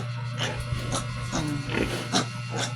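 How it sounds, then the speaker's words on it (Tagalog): A sow nursing her piglets lets out short grunts in a rhythmic series, close and moderately loud over a steady low hum. "Ingon ani ni ang anahan na baboy magpadidi, magsaba siya."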